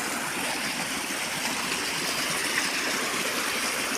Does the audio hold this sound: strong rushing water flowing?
yes